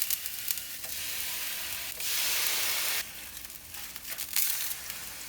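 Beef cheek sizzles in a tablespoon of coconut oil and ghee blend in a pan over medium-high heat, a steady, close frying hiss with crackles that swells and dips over about five seconds.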